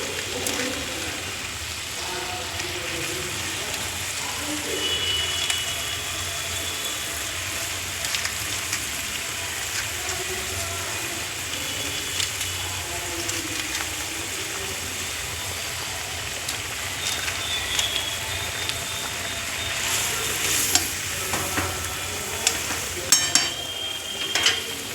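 Pomfret fish simmering in a mustard curry in a pan, a steady soft bubbling hiss running throughout with occasional light clinks of utensils against the pan.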